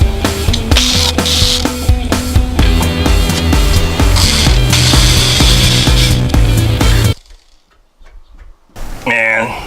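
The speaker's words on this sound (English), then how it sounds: "I'm going to go ahead and start drilling" A power drill with a 1/4 inch bit whines steadily and loudly for about seven seconds, drilling into a Dodge RAM truck tailgate, then cuts off into near silence before a brief rattle at the end.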